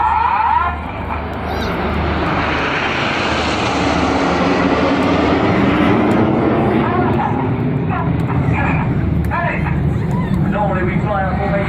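Red Arrows jets fly a formation display at the 2016 Sunderland Airshow with a loud, continuous engine roar that swells and then fades. A voice talks over the noise throughout.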